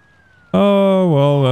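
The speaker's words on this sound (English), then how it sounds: "I think I hear a fire truck coming." A siren in the Emergency 4 firefighting game, heard as a fire truck approaching, cuts in abruptly after a faint tone and holds loud and steady, wavering slightly in pitch.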